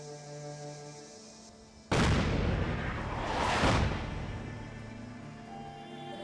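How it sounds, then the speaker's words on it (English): An artillery strike in Fallout 4 lands with a sudden loud explosive boom after a quiet stretch, followed by a rolling second blast and a long rumbling decay over faint game music. "We've got your coordinates. Fire incoming on your target."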